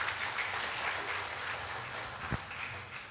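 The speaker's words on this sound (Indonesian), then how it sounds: "Kasih tepuk tangan yang dahsyat buat Tuhan." A church congregation claps for God at a Christmas celebration. The applause is fairly faint and diffuse, like a large room heard from a distance, and a single dull thump sounds near the end.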